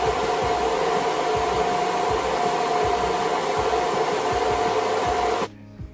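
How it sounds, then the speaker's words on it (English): A hair dryer fitted with a diffuser drying the roots of curly hair gives a loud, steady whooshing blow with faint rubbing and tapping beneath it, then shuts off abruptly near the end. "use a diffuser in the roots to"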